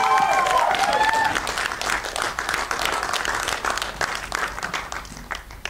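A crowd at a film trailer launch event breaks into loud applause, with a brief whoop or shout rising at the start before steady clapping carries on.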